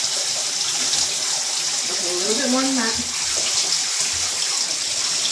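Tap water runs steadily into a tub while a raccoon is bathed, a continuous bright hiss that fills the whole stretch, with a person speaking briefly over it.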